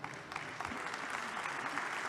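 Audience applause at a Mexican political conference, a steady wash of many hands clapping, moderately loud and sustained throughout with no talk over it.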